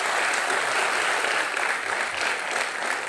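Steady, dense applause from a studio audience at a Hindi television talk show, sustained and loud for the whole stretch with no voices on top.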